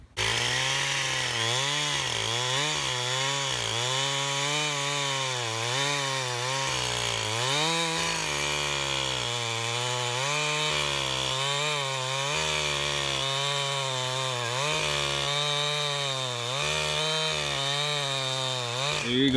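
A chainsaw on a Beam Machine mill rips inch-thick boards, its engine droning loud and steady throughout with repeated rising and falling pitch swells as the cut loads and eases.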